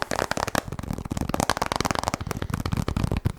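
Fingers tap rapidly on a small plastic container, such as an old pen or pencil case, in dense fast clicking bursts, close and crisp, with no voice.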